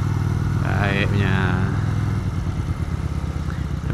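A Benda Napoleon Bob 250 bobber-style motorcycle runs during a ride, its engine humming nearby with a short rising rev, while someone talks over it.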